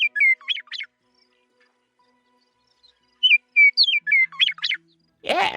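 A Western Meadowlark sings two clear, bright warbling phrases of fluting notes, separated by a short silence, followed by a brief burst of rough noise at the end.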